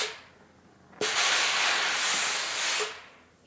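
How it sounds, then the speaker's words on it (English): Steam bursts from an iron while sewing a fabric bunny, a loud steady hiss that starts abruptly, holds for about two seconds and then fades out, with no talking. "Let's give that a little steam."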